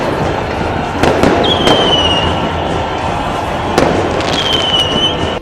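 Fireworks burst over a street celebration in Santiago, sharp cracks and bangs at intervals with faint whistling rising between them, set against a dense, continuous crowd roar.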